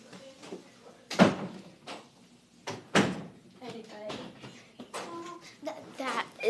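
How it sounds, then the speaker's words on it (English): A door opens with a couple of sharp knocks and thuds, near and moderately loud, while a person talks throughout. "Oh, the door just opened."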